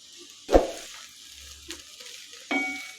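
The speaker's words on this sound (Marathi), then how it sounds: "अशा पद्धतीने सर्व भाज्या आहेत त्या मिक्स करून घ्यायच्या आहेत" Soaked poha being stirred through mixed vegetables in a hot pan, a few distinct scraping, sizzling stir strokes spaced across a few seconds, close and moderately loud with no talking.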